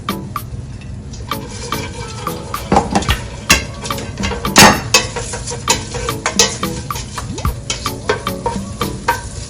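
Ginger and asafoetida stirred in hot oil in a cooking pan: a steady sizzle with repeated scrapes and clinks of a spoon against the pan, close and fairly loud, with no voices.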